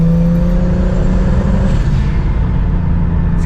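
A tuned BMW car engine revs loud and close, its drone sustained and rising steadily throughout, with a steady harmonic hum beneath the roar and no voices.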